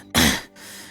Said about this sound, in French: C'est une mauvaise toux que vous avez là quand même.